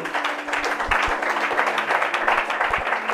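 A church congregation applauds and cheers the Lord during a French-language service, a dense steady wash of clapping with voices mixed in, loud and close throughout.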